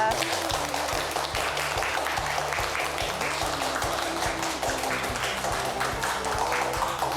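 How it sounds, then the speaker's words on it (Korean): A studio audience at a Korean lecture program on local autonomy and decentralization applauds to welcome a public administration professor from Yonsei University. The clapping is dense and sustained, mixed with a low steady hum and murmur underneath throughout. "여러분 박수 부탁드립니다"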